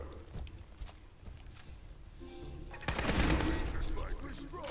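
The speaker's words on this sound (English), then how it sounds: "Oh, that's a turret." An automated turret opens fire in Fallout 4, a burst of rapid gunfire that starts about two-thirds through and continues loud over the game's background sounds.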